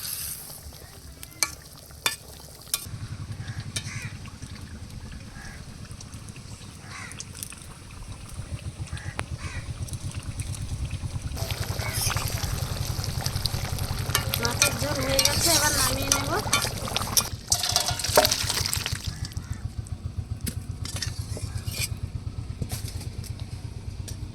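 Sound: fried fish simmering in curry, being stirred

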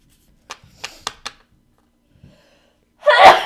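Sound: sneeze

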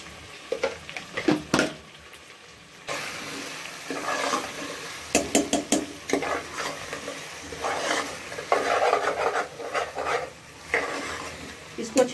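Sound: potatoes frying in a pan

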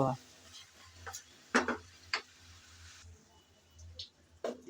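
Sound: stirring and frying goat head curry in a pan

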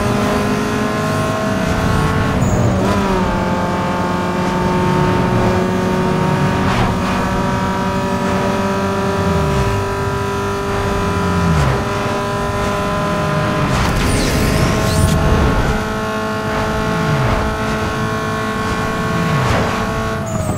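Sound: car engine racing in video game Need For Speed Underground 2

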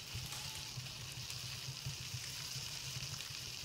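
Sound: pan sizzling while cooking in a video game

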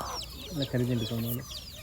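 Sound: rooster clucking

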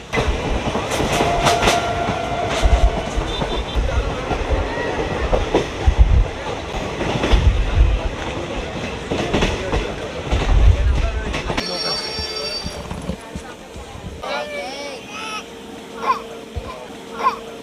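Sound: moving train

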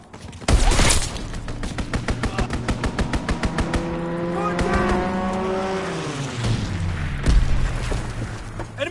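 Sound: gunfire and explosions from enemy strafing run in video game

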